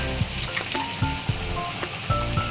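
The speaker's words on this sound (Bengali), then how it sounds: "এর মধ্যেই আমি দিয়ে দেবো এক এক করে রসুন বাটা লঙ্কা গুঁড়ো নুন হলুদ গুঁড়ো" Garlic paste, chili powder, salt and turmeric sizzle in a pan of frying onions and tomatoes, a loud, close, continuous crackle with a few soft stirring knocks and no voices.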